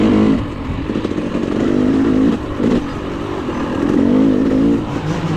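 A KTM 300 two-stroke dirt bike racing a hare scramble, engine loud and close, revving up and down through repeated surges with no voices.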